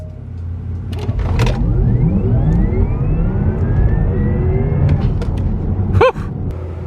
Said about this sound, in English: 0 to 60 test number 1 in the Taycan Turbo. Launch activated.